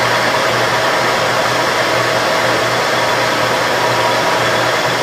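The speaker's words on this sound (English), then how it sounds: "Dishwasher." A dishwasher pumps water down a building's drain stack, a steady loud rushing whoosh with a low hum that holds evenly throughout, close and unbroken.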